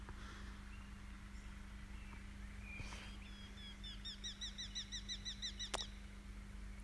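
Evening birdsong on an open mountain field, a run of rapid repeated chirping notes in the latter half, fairly clear over a steady low hum and faint background.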